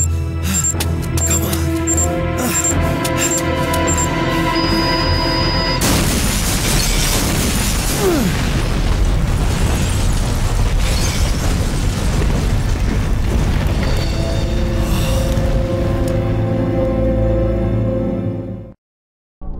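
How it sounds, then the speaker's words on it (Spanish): Plastic explosive charges detonate across a hospital lobby in the Resident Evil 3 video game, a loud sustained roar of blasts and crumbling debris that rumbles for many seconds over a droning music bed before cutting off abruptly. "antes de que todo el hospital se venga abajo por la explosión"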